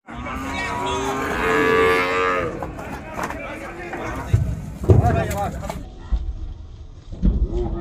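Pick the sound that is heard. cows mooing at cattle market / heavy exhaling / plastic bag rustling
cows mooing at cattle market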